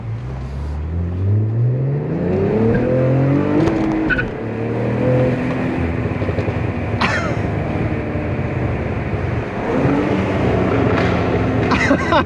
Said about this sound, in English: Joined by my fiance Nicole, taking a look at my dream car, the 2023 Cadillac CT4-V Blackwing